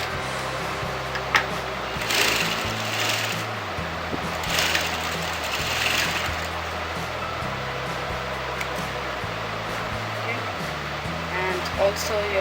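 Sewing machine stitching a katori blouse, running in short whirring bursts that start and stop repeatedly at moderate volume under a woman's continuous instructional speech.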